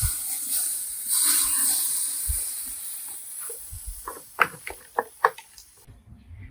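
Smoked beef brisket being wrapped after a few hours on the smoker, a steady hiss of the cooker behind rustling handling, followed by a run of sharp crinkling bursts near the end.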